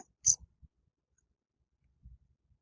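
Mouse clicks while opening a calculator on a computer, a sharp click followed by a few soft taps, then a faint pair of clicks near the end in an otherwise quiet room.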